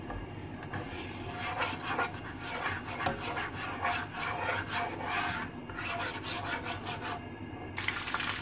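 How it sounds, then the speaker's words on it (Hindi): Ginger garlic paste frying in hot oil in a pan gives a steady, soft crackling sizzle with scattered pops and scraping, continuous and close throughout, with no talking. "यहाँ पे मैंने ऑयल ऐड कर दिया है एक पैन में, साथ ही मैं डालूंगी अदरक लहसुन का पेस्ट।"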